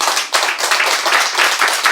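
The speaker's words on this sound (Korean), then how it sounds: "맞으면 박수 한번 크게" A lecture audience at a Catholic retreat claps loudly together, a brisk, full burst of hand-clapping that stays strong throughout, close and energetic with no talking over it.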